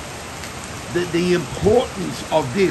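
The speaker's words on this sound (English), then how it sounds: "it's raining very hard now" Heavy rain pours down in a steady broadband hiss throughout, with a voice talking over it in short phrases.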